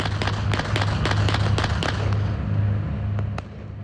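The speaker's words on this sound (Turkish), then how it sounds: "av sezonunun açılışı havai fişek gösterisiyle kutlandı" Fireworks from a fishing-season opening display in Rize, Turkey, pop and crackle in quick irregular bursts, sharp loud bangs over a low steady hum, thinning out toward the end.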